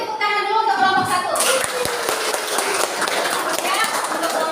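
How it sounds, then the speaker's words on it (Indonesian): A classroom group receives applause after presenting, with a burst of clapping from students that starts partway through and continues under a speaking voice, fairly close and lively. "Beri tepuk tangan dulu untuk kelompok 1."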